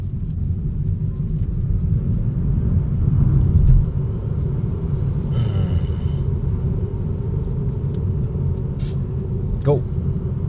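A Tesla Model 3 Standard Range accelerates gently, its low road and motor rumble holding steady at moderate loudness. A brief swell comes partway through. Faint higher whines and clicks sit over the rumble, and no one speaks.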